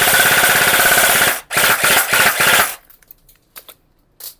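A G&G ARP9 2.0 airsoft gun with a drum magazine fires on full auto at about 350 FPS: a loud, close, rapid mechanical rattle in two bursts separated by a brief gap, then quiet with a few faint clicks.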